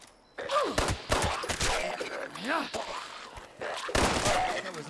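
Gunshots in the Fallout 76 video game, a cluster of sharp close shots in short bursts mixed with other game noises and a voice.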